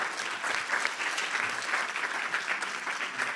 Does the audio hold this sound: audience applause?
yes